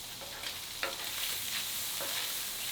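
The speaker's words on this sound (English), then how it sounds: "We got our Spam and our bacon rendered down." Spam and bacon fry in a puddle of rendered grease, giving a steady, close sizzle with occasional stirring scrapes and no voices.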